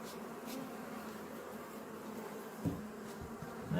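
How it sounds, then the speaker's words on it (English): Honey bees hum steadily around an open hive being inspected, a dense continuous drone at close range, with a brief thump of handling partway through. "And there's still a couple of really stubborn bees here crawling around."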